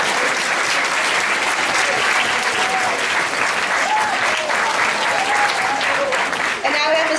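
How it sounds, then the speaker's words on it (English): An audience at a school student recognition day gives students a round of applause: dense, sustained clapping that fills the room at steady loudness throughout, with a few voices rising faintly above it. "So if we could all give them a round of applause, I would appreciate it."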